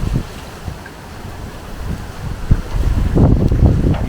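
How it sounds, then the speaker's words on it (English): Hurricane wind gusts outdoors during a storm in Orlando, a rough roaring rush that buffets the microphone and swells louder toward the end, with no voices. "the wind is really starting to kick in all of a sudden."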